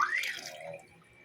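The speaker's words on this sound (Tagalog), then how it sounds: "Dagdagan ko na ng tubig." Water pours into a pot of soup (sopas) on the stove, a short splashing gush that starts strongly and quickly tapers to a faint trickle, close by with no talking.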